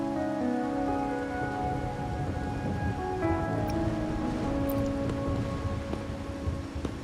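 Steady rain falling in the video game Wuthering Waves, a dense continuous patter on surfaces layered under sustained ambient music tones, with a few faint clicks.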